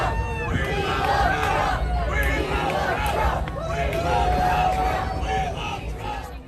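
A large outdoor crowd at a DeSantis campaign rally where he was flipping pork chops shouts and chants continuously, a dense roar of many voices with yells rising above it.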